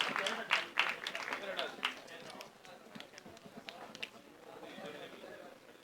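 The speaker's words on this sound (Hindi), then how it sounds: "इस टीम के लिए एक बार जोरदार तालियां हो जाएं" Crowd at a Bollywood film trailer launch applauding the team, loud scattered claps at first that thin to lighter clapping, with voices talking over it.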